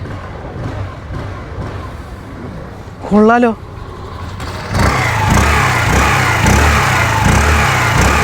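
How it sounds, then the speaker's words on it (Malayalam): A Hero Xoom 125 scooter's exhaust note while the engine is revved, a steady mid-pitched drone with a rise in intensity partway through; a person briefly exclaims over it. "സോ ഇതിൻ്റെ എക്സോസ്റ്റ് ഒന്നും കൂടി കേൾപ്പിച്ചു തരാം"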